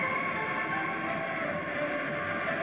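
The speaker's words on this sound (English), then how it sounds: "I like the train." A video game train rolls past with a steady, dense rumble and hiss that holds even throughout, with no talking.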